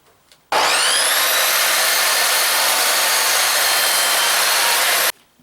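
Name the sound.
sawing a rough 1x6 hemlock board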